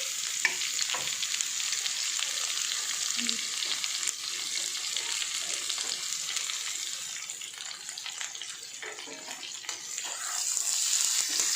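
Sliced onions fry with okra for Sindhi bhindi bassar, a steady close sizzle broken by scraping and clattering stirs in the pan, continuous for several seconds with no voice.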